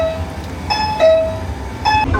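Interior of a moving Guangzhou metro train: a steady low rumble of running carriages with a few bright chime-like tones ringing out over it, no voices.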